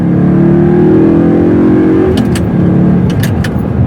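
A 2009 Audi R8 engine pulls hard under acceleration, its loud, steady drone climbing in pitch for about two seconds before easing into a rougher, lower rumble punctuated by a few sharp clicks.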